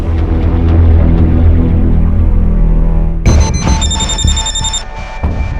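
Telephone ringing in a crime drama office scene, a loud tonal ringing that cuts in sharply after a heavy low musical drone, with a bright repeating ring pattern and no speech.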